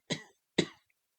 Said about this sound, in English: There was a long pause with more of the ghostly coughing.